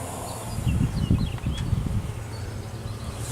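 Honeybees buzzing around an open beehive during an inspection, a close, dense hum with swelling low drones as bees fly off the frames, steady for several seconds without speech.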